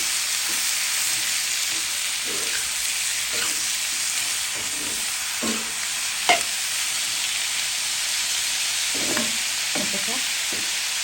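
Radish greens (mulo shak) frying in a pan give off a steady, broadband sizzle that runs through the whole stretch. Soft stirring scrapes and clinks break through at intervals, and no one speaks.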